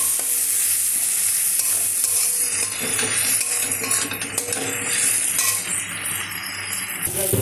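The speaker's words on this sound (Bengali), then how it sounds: "এবার আমি হলুদ গুঁড়ো, লঙ্কা গুঁড়ো অ্যাড করলাম। এবারে ভালোভাবে আবার কষিয়ে নেব।" A masala with turmeric and chili powder is stir-fried in a pan. Loud, continuous sizzling blends with repeated scraping and stirring of a utensil against metal, close up, with no voices.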